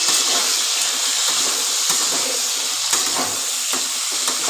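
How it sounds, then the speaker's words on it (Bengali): Vegetables frying in a covered pan with salt added, for a Bengali vegetarian dish: a steady loud sizzle and hiss broken by several scraping stirs, with no talk. "এইবার আমি ঢাকা দিয়ে দিয়ে ভাজবো, একটুখানি নেড়ে নিই।"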